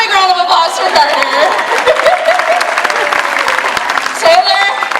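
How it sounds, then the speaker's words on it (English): An audience at a sea lion show at SeaWorld San Diego claps in a steady wash of applause with scattered cheers, while voices carry over the crowd. "how about we give a big round of applause for Carter?"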